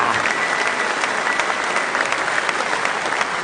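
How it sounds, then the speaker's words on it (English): Dense, steady applause from a large audience at the Ford Ranger Super Duty global reveal in Melbourne, loud and continuous throughout with a faint crowd murmur underneath. "That deserves one more round of applause, ladies and gentlemen."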